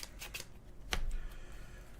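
Playing cards from a Pokémon trading card game deck being shuffled at a tabletop match, a few quick riffling bursts followed by a louder sharper shuffle, close and alone.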